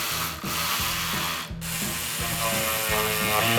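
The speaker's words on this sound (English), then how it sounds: "this is when you'll need to use your T30 Torx Bit" A ratchet driving a T30 Torx bit clicks steadily while securing the top half of a glass windshield on a Segway utility machine, close and continuous rhythmic ratcheting with no talk.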